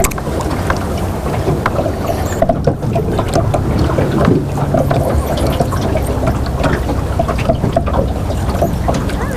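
A boat's trolling motor runs steadily on open water during autumn fishing, a continuous low hum under wind buffeting and faint splashes, with no talk.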